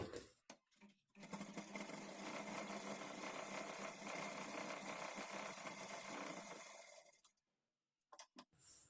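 A sewing machine stitching blouse fabric runs in one steady whirring burst of about six seconds, close and fairly quiet, with a few short clicks and handling noises before and after.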